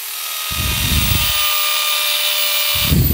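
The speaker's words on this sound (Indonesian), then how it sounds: "Kita gunakan untuk ngebor sekarang." Electric drill in short bursts, a constant high motor whine with rough grinding surges as it bites, stopping for a moment and then starting again near the end.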